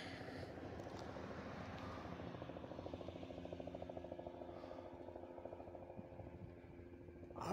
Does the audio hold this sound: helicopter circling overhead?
yes